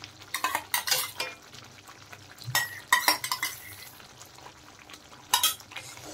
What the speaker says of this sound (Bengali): টক দই দেওয়ার পর আরেকটু কষিয়ে নেব।